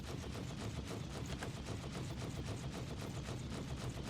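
Dense, continuous rapid-fire bursts of missile and weapons fire in a space fleet battle video game, a steady loud barrage with no pauses and no voices.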